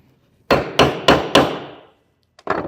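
A hammer flattens a bent, trimmed nail end while building a Kubb caddy, four sharp evenly spaced blows followed by a pause and one more strike, close and clear with no talk.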